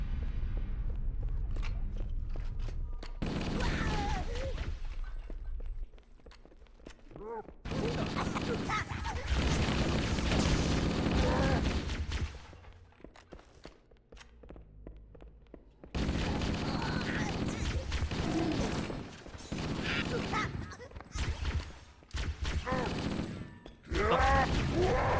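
Explosions and bursts of gunfire in the Halo video game, loud dense broadband blasts arriving in several heavy waves with quieter gaps between them, plus some rattling mechanisms and scattered voices.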